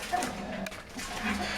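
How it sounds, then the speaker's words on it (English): Young puppies yap and whimper inside a cardboard box in a busy, noisy stretch of high-pitched yips that runs the whole time, close by and fairly loud, with a brief gap partway through. "That's the cardboard box puppies making all that racket"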